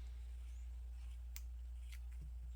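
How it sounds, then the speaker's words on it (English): Scissors snip through a paint sponge, two or three quick, faint cuts over a steady low hum, with no talking. "Just take your scissors,"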